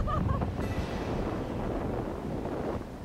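Strong gusts at about 4,300 metres in the Argentine highlands near Humahuaca, facing the Fourteen Colours Mountain during a storm. The wind roars close and buffets the microphone steadily for about three seconds.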